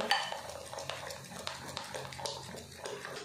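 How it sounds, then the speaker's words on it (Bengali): Puffed rice mixture with Eno and a spoonful of water being mixed in a bowl, a steady run of close utensil scrapes and light clinks with small knocks throughout, no voices. "এবার এটা ভালো করে মিক্স করে নেব।"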